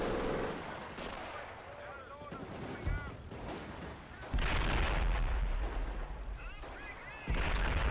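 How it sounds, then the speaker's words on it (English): Artillery fire booms through a Company of Heroes battle in the Blitzkrieg mod, heavy blasts and gunfire rumbling continuously with loud surges, while someone talks over the combat. "Actually, that's fire artillery in there"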